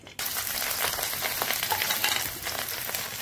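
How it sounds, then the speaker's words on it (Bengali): Onion and green chilli frying in oil in a wok give a steady, close, crackling sizzle that starts abruptly after a brief silence and carries on without voices. "পেঁয়াজ এবং কাঁচামরিচ তেলে ভাজার জন্য আমি কড়াইতে"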